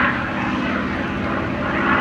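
A yellow-nosed Corsair propeller fighter flies past at an airshow, its engine a loud, steady, broad roar that holds for the whole moment with no voices.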